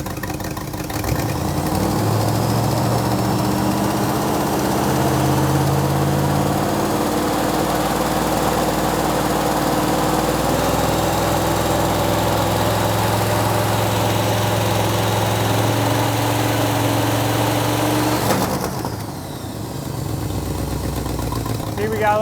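A 350 small block Chevy V8 from a 1964 Impala idles steadily as it warms up, a continuous close, loud rumble that holds for most of the stretch before briefly dipping near the end, with a voice talking over it.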